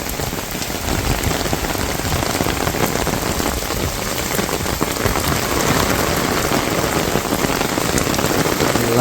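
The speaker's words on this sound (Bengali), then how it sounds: "চমৎকার বৃষ্টি নামাইছে" Steady rain falls across a village on a windy, cold day, a dense, even hiss of drops drumming on surfaces that continues unbroken and fairly close, with no voices.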